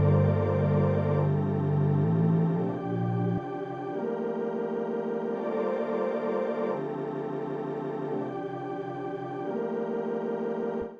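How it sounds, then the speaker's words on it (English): Granulator 3 granular synth plugin processing a pad sample, producing sustained layered tonal textures that shift between chords in smeared, shimmering blocks, loud and alone with no talk. "Granulator 3 sounds like this."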